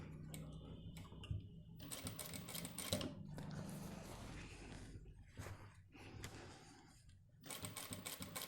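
A sewing machine stitches a shirt sleeve cuff in close, rapid mechanical bursts, stopping and starting several times with short pauses between runs.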